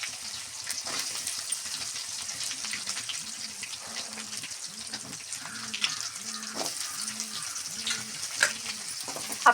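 Dried red chillies, garlic, small shallots and sliced onions with curry leaves sauté in hot oil for a garlic-pepper kuzhambu, giving a steady close sizzle with repeated scraping stirs throughout.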